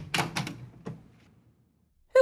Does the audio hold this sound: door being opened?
yes